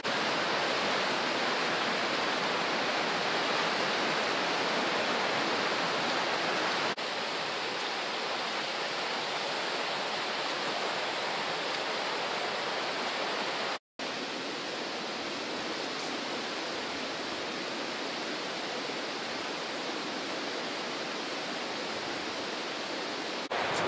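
Steady rushing water, a broad constant roar like a river flowing nearby, unbroken apart from a momentary cut.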